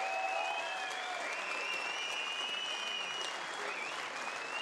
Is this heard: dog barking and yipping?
no